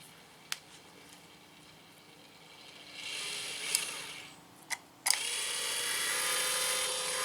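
A VEVOR rotary welding positioner's motor turns under foot-pedal control, starting with a few sharp clicks, then a faint whirring that rises and settles into a steady high-pitched hum.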